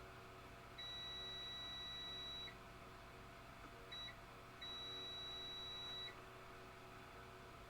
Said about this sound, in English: I don't know why this thing wants to beep now.